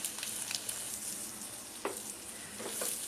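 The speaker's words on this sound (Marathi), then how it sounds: "थोडं अजून शिजू दे, मग चांगलं परतून घेऊया।" Egg bhurji frying in a pan while it is stirred, making a steady, close sizzle with a few soft scraping strokes and no talk.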